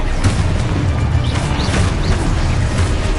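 Dense spell blasts and explosions from combat in Hogwarts Legacy, a loud continuous wash of rumbling booms and crashes with a few rising magical whooshes over three seconds.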